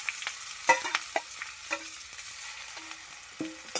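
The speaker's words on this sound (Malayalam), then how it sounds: "നമുക്കിത് കടുവ് വറുത്ത് ഇതെല്ലാം ഇനി അതിലോട്ട് ഇട്ട് കൊടുക്കാം" Mustard seeds, onion and curry leaves frying in a pan, with crisp sizzling and popping bursts and scraping stirs at an uneven rhythm, close up with no talk.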